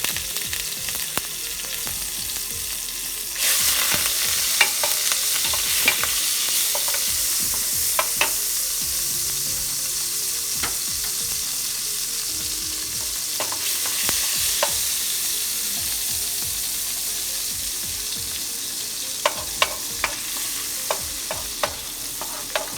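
Sauce for Jamaican stewed saltfish simmers and sizzles in a pan with a teaspoon of butter and some water, under a constant frying hiss that swells partway through, while a spoon knocks and scrapes repeatedly against the pan, near and wordless.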